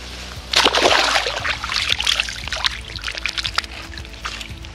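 A mirror carp slipping back into the water at a bankside carp fishery, a brief splash followed by soft sloshing and trickling close by.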